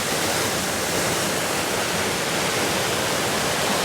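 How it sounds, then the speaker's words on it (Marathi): Channat waterfall (Satkund), a hidden waterfall, roars loud and close as a steady, unbroken rush of falling water. "पुन्हा एकदा पहा कसं मस्त वॉटरफॉल दिसतो"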